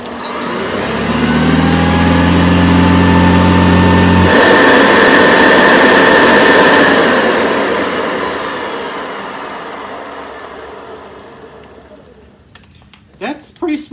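A vintage Hoover vacuum cleaner motor runs loud and steady, its hum cutting off at about four seconds and then winding down in a long fading whir, ending with a few handling clicks.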